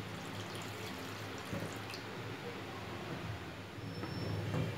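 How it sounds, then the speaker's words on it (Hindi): Full cream milk coming to a boil in a pan, a steady low bubbling and simmering wash with faint drips, close and continuous, no talking. "दूध में बबल से बन रहे हैं और इसमें उबाल आ गया है।"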